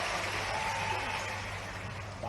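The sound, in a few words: audience clapping at a political rally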